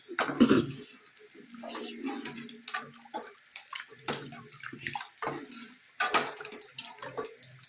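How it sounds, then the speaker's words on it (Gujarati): Pea cooking water is poured into a pot of ragda, the thin white-pea curry, giving a steady watery splash and slosh that starts loud and continues in uneven gurgles. "ગ્લાસ પાણી એનું પણ પાણી વટાણાનું પાણી છે એ આપણે અંદર નાખી દઈએ"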